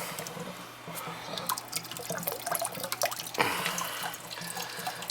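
Water runs steadily from a drain on a leaking three-year-old boiler in a basement, a continuous close splashing stream with scattered drips and small gurgles.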